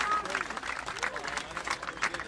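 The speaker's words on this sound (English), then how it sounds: "the way I wanted the golf clap to work was that it would go and be additive" Scattered light golf-clap applause from a Godot cyberspace-themed jam game, a thin patter of claps building slightly over a couple of seconds, with faint talk.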